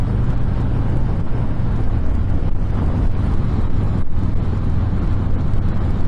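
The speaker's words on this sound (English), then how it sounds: "it's a little bit of a breezy day, not like super. And then, you know, I'm getting a little buffeting off the guy in front of me" Wind buffets the microphone during a ride on a 2020 Harley-Davidson Softail Fat Boy 114 on a breezy day. A steady loud roar of wind and road noise blends with the low engine drone, and no one speaks.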